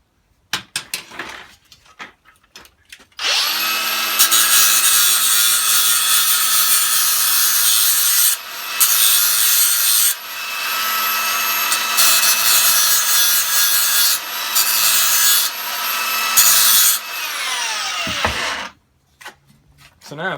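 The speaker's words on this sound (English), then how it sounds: "we're going to have to do just a slight grind" A power grinder works on chrome boot trim from a 59 Chevy Impala, with a sustained loud high-pitched grinding whine for about fifteen seconds, broken by a few brief pauses, after some initial tapping and handling sounds.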